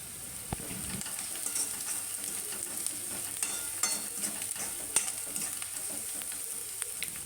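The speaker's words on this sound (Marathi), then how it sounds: "कांदा थोडा तांबूस होऊ लागला की त्याच्यात थोडं मीठ घालणार आहोत आणि परतून घेऊया" Onion with salt is sautéed in a pan, a continuous crackling sizzle with frequent spatula scrapes and light taps, close and unvoiced.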